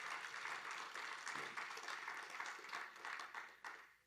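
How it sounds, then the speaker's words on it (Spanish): Church congregation applauds the Lord during a sermon by Pastor José Vásquez, producing quiet, rhythmic group clapping in pulsing waves at a distance, sustained throughout. "Dele ese fuerte aplauso al Señor"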